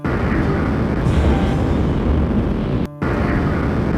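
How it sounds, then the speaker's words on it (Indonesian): A large explosion erupts near a government building in Oslo in a film scene, heard as a loud, sustained broadband roar and rumble that cuts out abruptly for an instant near the end before resuming. "Lalu tiba-tiba sebuah ledakan besar terjadi"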